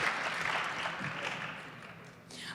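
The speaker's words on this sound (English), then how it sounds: "A last round of applause for all of our winners" Conference audience at a 2017 summit applauds award winners, a fairly soft, dense wash of clapping that holds steady for a couple of seconds with a faint murmur of voices mixed in.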